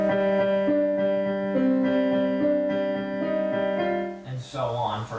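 Solo piano plays the repeated opening figure of a piece, with steady sustained notes ringing clearly before a short burst of noise at the end.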